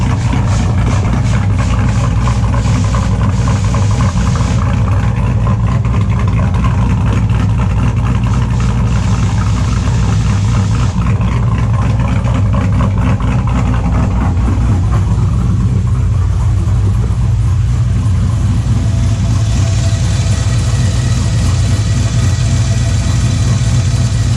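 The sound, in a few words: truck engine idling loudly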